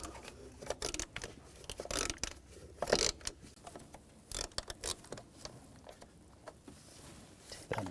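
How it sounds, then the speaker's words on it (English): Ratchet and socket work on a bracket nut in the engine bay of a 2006-2010 BMW 550i 4.8L V8, giving irregular close mechanical clicks, scrapes and clatter with short louder bursts and no talking. "Use a 10mm socket. Take this bracket out. Take this nut off."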